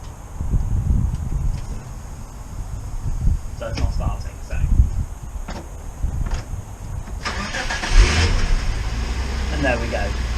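A Subaru Legacy 3.0R Spec B estate engine cranks and catches, then settles into a steady idle, heard close by from inside the car with people talking over it.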